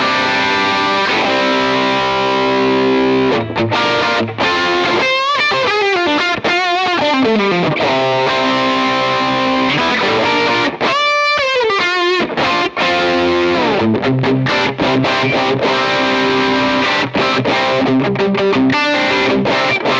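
An electric guitar played through a Victory Amps V1 Kraken distortion pedal, loud and saturated, with sustained chords and bending lead lines in an old-school rock style that plays continuously without any talk.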